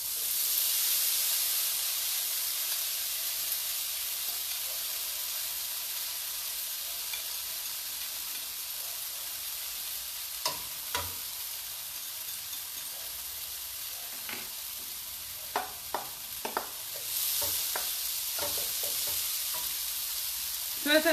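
Tofu fries in a pan with a steady, even sizzle and hiss that runs throughout, broken by a few faint scrapes and clicks of stirring; no one speaks.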